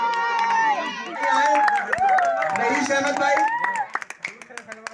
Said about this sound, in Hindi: इकबाल भाई का जोरदार तालियों से स्वागत।